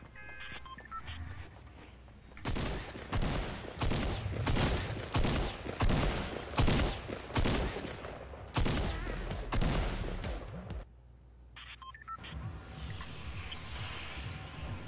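Gunfire in the Fortnite battle royale, a run of loud, sharp shots fired in quick succession with short gaps between bursts, followed by quieter game ambience at the end.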